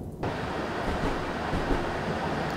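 A steady rushing rumble of a BR 423 electric train from a train simulator game, heard from inside the carriage, continuous and moderately loud, with no voices.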